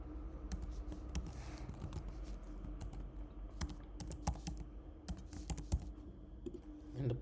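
Fingers type on a computer keyboard to enter an email address, giving quiet irregular clicks and taps close by, with short pauses between bursts and no talking.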